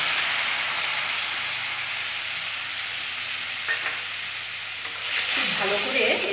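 Potatoes frying in oil hiss steadily, then spice-infused water hits the hot pan with a sudden loud burst of sizzling and bubbling near the end, for a fish curry with potato and eggplant.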